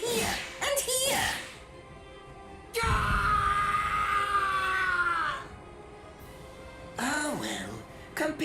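A man in the anime Bleach screams in pain: a long, loud, strained cry in the middle, with shorter yells and groans before and after it, all close up.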